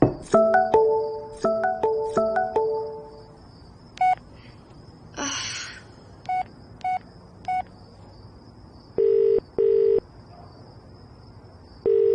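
A phone gives off a run of short electronic tones and beeps. Quick clustered chirps come first, then separate single pips and longer steady tones. The sounds are clear and close, with no voices.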